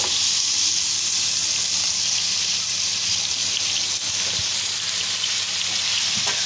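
Vegetables, potatoes and capsicum, sizzle steadily in a hot pan, a continuous close frying hiss with faint clinks and no talking.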